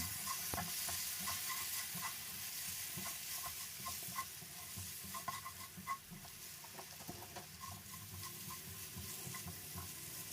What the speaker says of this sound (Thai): จากนั้นเราก็คลุกเคล้าส่วนผสมให้เข้ากัน